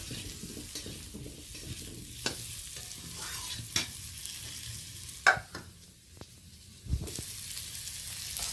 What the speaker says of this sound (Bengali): ওতে আমি আলুটা ভেজে নেওয়ার জন্য তুলে দিলাম